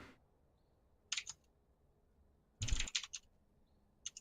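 Computer keyboard typing during setup for an online game: two short bursts of close clacking keys separated by near silence, with a faint tap at the end.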